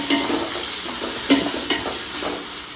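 Ginger garlic paste sizzling and frying with onions in a pot for chicken biryani, a steady close hiss with a few sharp scraping stirs and clinks throughout.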